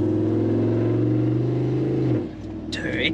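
A Toyota 79 Series with an 8-speed gearbox conversion drives along with a loud, steady engine drone inside the cab, the tone dropping as it shifts near the end.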